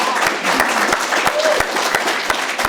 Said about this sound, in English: So let's give her a quick round of applause.